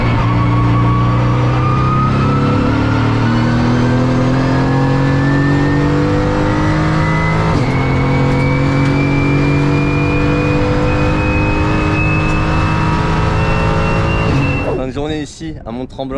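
Mercedes GT4 race car lapping the Mont-Tremblant circuit, heard from onboard as the engine drones loud and close, rising steadily through the gears with brief shift breaks before dropping off abruptly near the end.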